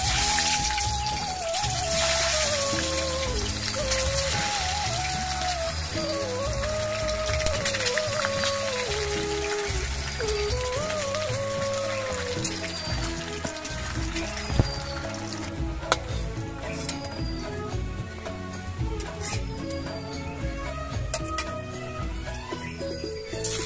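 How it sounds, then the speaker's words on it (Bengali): Eggs frying in mustard oil in a wok, a steady crackling sizzle that continues throughout, with a tonal melody playing along underneath. "এবার কড়াইতে সর্ষের তেল দিয়ে ডিমগুলোকে আমি লাল লাল"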